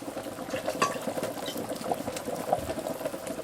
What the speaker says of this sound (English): So just pour in.